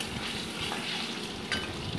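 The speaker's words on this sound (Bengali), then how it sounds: "দেখো ডিমগুলোকে ভেজে নিচ্ছি" Eggs fry in hot oil in a pan, giving a steady, close crackling sizzle with a few sharper pops, alone and without talk.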